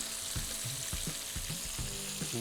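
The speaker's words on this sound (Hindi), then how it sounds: "उसी तेल में पनीर तलेंगे" Continuous crackling sizzle of paneer frying in hot oil, with occasional low knocks and stirring sounds, close by.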